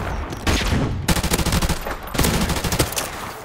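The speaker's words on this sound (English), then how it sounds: "And I lose that gunfight." Rapid bursts of automatic gunfire in a video game gunfight, several loud rattling volleys close by with short gaps between them.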